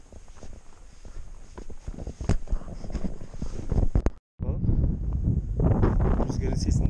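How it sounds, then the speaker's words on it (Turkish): Gusting wind buffets the microphone with a rough rumble on a valley trek near a mill in Muğla, Turkey, briefly cutting out before returning louder; a few scuffing steps are heard. "Rüzgarın sesini dinleyelim."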